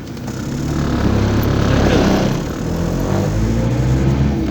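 A VW T4 van engine drones steadily while driving after a fuel pump adjustment, a loud continuous low rumble that swells and eases slightly with no talk.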